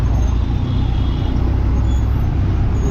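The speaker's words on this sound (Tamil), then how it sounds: "டிராஃபிக்கின் உச்சகட்டம்." Heavy road traffic in a dense jam gives a loud, continuous roar of engines and tyres with low rumbling, steady throughout with no clear single vehicle standing out.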